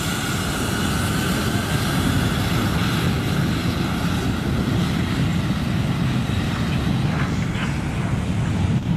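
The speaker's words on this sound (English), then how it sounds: "This plane tore up the runway as it was taking off." An airplane takes off from a runway with a loud, steady, broad engine roar that holds nearly constant throughout, close and without voices.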